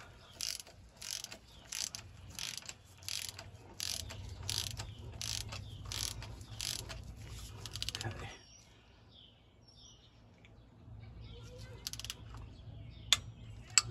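A ratchet clicks in a quick, regular run while tightening down the cylinder head on a 1981 Ford F150, close and fairly quiet, then stops, leaving a few faint clicks and knocks.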